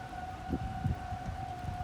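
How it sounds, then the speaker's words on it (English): A tornado siren holds a steady wailing tone through the rain, with soft thumps and patters of raindrops nearby and no voices. "The tornado siren went off."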